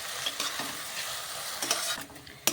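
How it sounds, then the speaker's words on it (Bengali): Amla, fenugreek seeds and black cumin are stirred in oil over low heat for a hair oil, giving a continuous close sizzle. Spatula scrapes break through now and then, and a sharper clatter comes near the end. "আঁচ কম রেখে নাড়াচাড়া করে"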